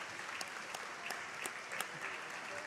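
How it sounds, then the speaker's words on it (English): Basketball crowd at a Vinton County vs Wellston game applauding the seniors, a steady wash of clapping with scattered sharper claps, moderately loud and continuous across the gym. "Getting all your chance for your seniors to get an applause."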